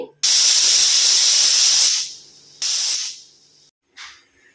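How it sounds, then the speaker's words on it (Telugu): A pressure cooker cooking country chicken curry vents steam in loud hissing bursts: one long blast, a shorter second burst, then a brief final puff, with quiet gaps between. "కుక్కర్ ఆవిరి అంతా పోయింది."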